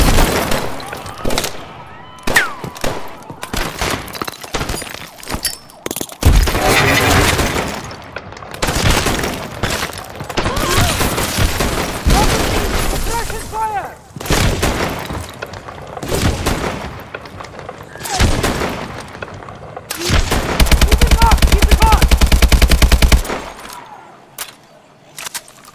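Heavy suppressing gunfire in Call of Duty: Advanced Warfare, with dense bursts of shots, booms and shattering impacts that run almost continuously and loudly, broken by short pauses.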